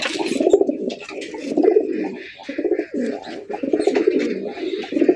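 A male Gola pigeon coos in a repeated, throaty rolling rhythm, close and fairly loud, several bouts in a row with brief pauses between them.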